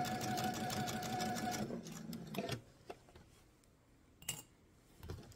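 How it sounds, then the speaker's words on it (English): A sewing machine stitches across the top of a fabric eyeglasses case with a steady, close mechanical whir for about two seconds. It then stops, and a few soft handling taps follow. "as we sew across that top"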